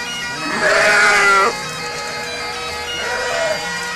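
Two drawn-out bleats from a nearby sheep, one loud and one softer, with a quiet outdoor hush between them.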